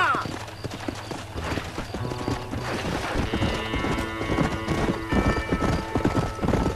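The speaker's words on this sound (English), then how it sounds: "Come on. Get on a horse." Horse hooves clip-clopping steadily in the Western video game Red Dead Redemption, a dense rhythmic patter that runs through the whole stretch under game music and ambient noise, with speech over it.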